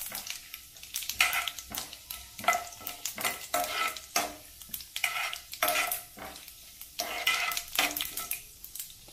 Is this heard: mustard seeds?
yes